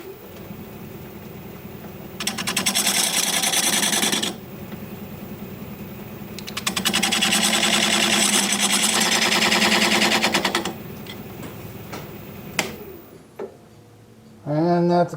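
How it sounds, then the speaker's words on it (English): A diamond point tool cuts a wood tenon on a spinning lathe, giving two sustained buzzing, chattering stretches of cutting over the steady motor hum, followed by a quieter spell and short sounds at the end. "use this diamond point tool to square up the sides of the tenon"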